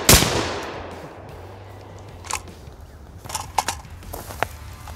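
An ATI Bulldog shotgun fires at an outdoor range, one loud close blast at the start followed by a long decaying echo, then a few faint clicks and handling sounds.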